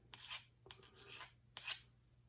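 A knife is drawn across a hand-held sharpening stone in three distinct raspy strokes, close and fairly quiet, with no voices.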